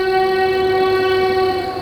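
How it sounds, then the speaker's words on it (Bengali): A cartoon train approaching a haunted railway station sounds a long, loud, steady horn, sustained evenly for nearly two seconds before tapering slightly at the end. "দূরে ট্রেনের হর্ন শোনা গেল। ট্রেন আসছে।"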